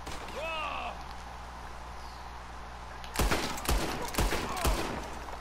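Several sharp gunshots in Red Dead Redemption 2 Online ring out in quick succession near the end, loud and close, after a stretch of quieter synthetic game sounds and whooshes.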